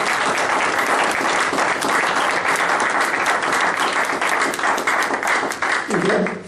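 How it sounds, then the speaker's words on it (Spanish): A church congregation applauds in honor of someone's life, a loud, steady wash of many hands clapping that fills the whole stretch and tapers only at the very end. "les damos un aplauso por su vida"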